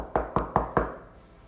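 Four evenly spaced knocks on a door, close and crisp, in a quick steady rhythm, then quiet.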